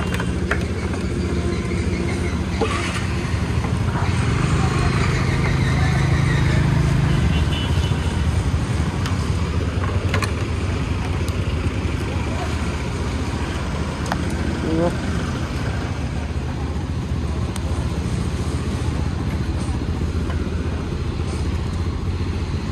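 A motorcycle engine running steadily close by, a continuous rumbling drone with some clatter and road noise around it, with people talking over it.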